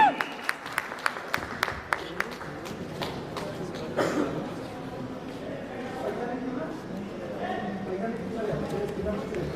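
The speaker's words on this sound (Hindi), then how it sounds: "जोरदार ताली से पवन सिंह जी" Audience at a Bhojpuri film event applauding for Pawan Singh: a few sharp, distinct claps at first, then a burst into broad crowd applause and cheering that carries on beneath ongoing talk.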